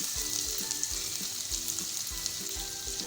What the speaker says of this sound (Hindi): अब अदरक लहसुन को 1 मिनट तक मीडियम फ्लेम पे हम इसको फ्राई करेंगे।